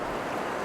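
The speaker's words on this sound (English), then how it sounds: "We've got the waves behind us, so that's testing out the microphone." Sea waves at Hornsea beach, a steady broadband wash of surf with some wind rumble on the microphone, continuous and fairly loud for a brief moment, with no talking.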